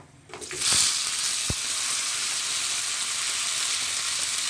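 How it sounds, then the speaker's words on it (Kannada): Onions frying in hot oil in a pan along with cinnamon and cloves, a steady loud sizzle that swells right after they go in and holds evenly, with one brief thump partway through. "ಈರುಳ್ಳಿ ಫ್ರೈ ಮಾಡ್ಕೊಳ್ಳಿ ಫ್ರೆಂಡ್ಸ್"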